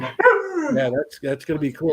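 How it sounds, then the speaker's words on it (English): A dog yips and barks briefly, mixed in with people talking close by in a home setting. "That's the dog."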